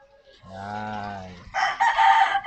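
A farm mother hen gives a drawn-out, close vocal call followed by a burst of harsher clucking squawks, brief and fairly loud.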